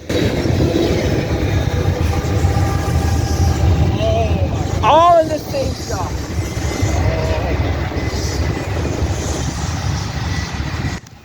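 Norfolk Southern locomotives on a light-engine power move in Ohio rumble steadily past nearby, with a short squealing, horn-like tone midway; someone talks over much of the passage.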